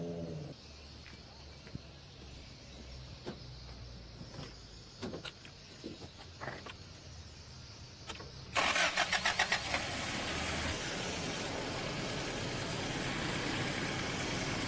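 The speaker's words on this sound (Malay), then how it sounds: "Boleh tolong start van ni, tak?" A van's engine cranks and catches at about the eight-second mark, then keeps running loudly and steadily up close, after a quieter stretch of scattered clicks and faint background noise; the van has a faulty radiator motor.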